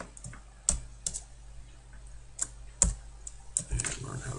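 Scattered keystrokes on a computer keyboard, a few sharp, close clicks spaced irregularly apart with short pauses between, over a faint steady hum and no talking.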